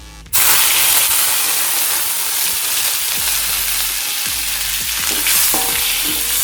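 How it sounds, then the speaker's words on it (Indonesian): Aromatic spice ingredients for beef gulai sauté in hot oil in a large iron wok, a loud steady sizzle and hiss with occasional scraping stirs, close and continuous with no voices. "Sekarang kita tumis terlebih dahulu ini bahan-bahan sebagai pewanginya."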